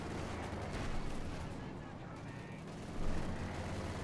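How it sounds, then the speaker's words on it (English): Artillery shells in a Company of Heroes 2 match, a Wehrmacht versus Soviet battle, boom in a dense, rumbling barrage with a louder blast near the end, over steady battle noise and a voice talking. "Machine gun though got wiped out there by the artillery"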